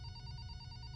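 A telephone bell rings in a rapid, steady electronic trill, bright and sustained over a low hum, with no voices present.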